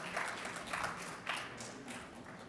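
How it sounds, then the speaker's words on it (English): A fairly quiet, brief patter of audience clapping at a meeting's opening ceremony rises and falls in small swells for a couple of seconds. "a round of applause for us."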